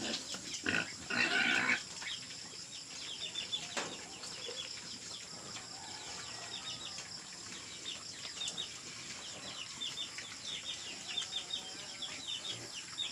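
Young fattening pigs about a month old on a farm grunt and squeal at close range, busiest and loudest early on, then settle into a steady low murmur of snuffling and shuffling for the rest of the stretch.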